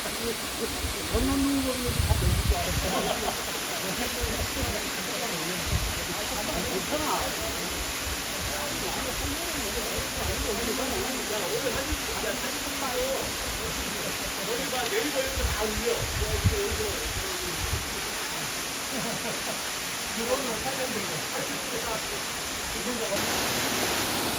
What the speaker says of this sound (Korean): 위쪽으로 또 폭포가 있어요. 그런 폭포 상단입니다.